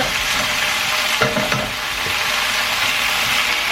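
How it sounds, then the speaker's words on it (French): Chicken meat frying hard in a pan gives a loud, steady, close sizzle that runs the whole time, with a couple of brief stirring scrapes partway through. "ça fait beaucoup de bruit la cuisson"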